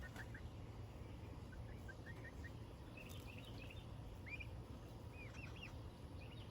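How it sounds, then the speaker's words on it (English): Turkeys gobbling in a farmyard alongside chickens, faint scattered calls over a steady low background hum. "These are my turkeys."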